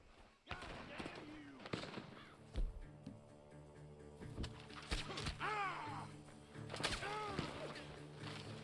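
Gunfire from a barn in Red Dead Redemption 2, several sharp cracks scattered irregularly through a busy game scene with crow caws and other effects, fairly distant and not very loud, with voices talking at times.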